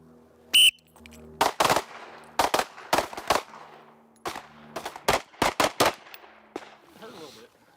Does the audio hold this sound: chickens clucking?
no